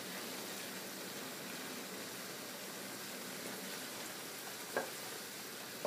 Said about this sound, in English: Stir this slowly, not too fast.